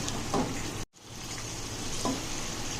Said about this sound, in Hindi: अब हम इसमें गरम मसाला पाउडर ऐड करेंगे और इसकी भुनाई करेंगे